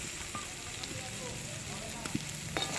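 Ginger garlic paste and turmeric fry in a hot pan while dal goppa is being cooked, a faint steady sizzle with small pops and the odd scrape.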